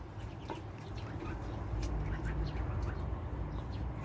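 Geese peck at Purina feed mixed into their grain, giving a steady close bed of soft pecking and rustling with scattered clucking and honking calls of poultry over it.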